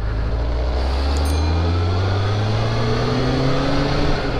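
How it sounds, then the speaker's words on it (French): Kawasaki ZR7 four-cylinder motorcycle riding on the road, a loud continuous engine drone with rising pitch as it accelerates through the gears, heavy wind rush throughout. "ce qui m'éclate là, c'est le son du 4 cylindres"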